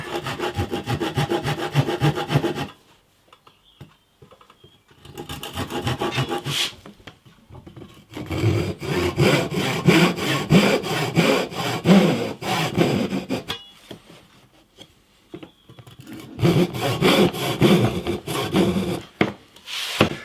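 Hand saw cutting into wood for the internal structure of a hollow body guitar, with rhythmic rasping back-and-forth strokes in several bursts separated by short pauses, loud and close.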